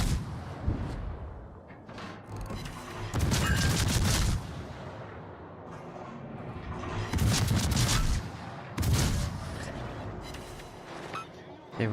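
Big naval guns fire full salvos in World of Warships, with loud booming blasts in clusters and long rumbling tails between them, while people talk over the action.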